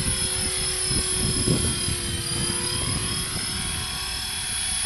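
A small 400-size radio-controlled helicopter flies outdoors in wind, its high, constant rotor and motor whine steady throughout, with gusty wind buffeting low underneath.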